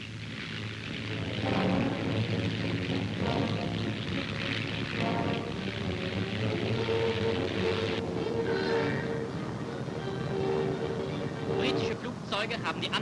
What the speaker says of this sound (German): Britische Flugzeuge haben die Annäherung erkannt und greifen an.